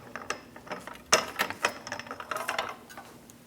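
A jack lowers the front suspension of a 2003-2007 Cadillac CTS during a strut and spring replacement, giving a run of sharp, close ratcheting clicks and metallic taps in an uneven rhythm.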